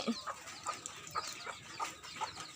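Chicks and a hen clucking and peeping in short repeated calls, fairly close, with soft outdoor background noise and no talk.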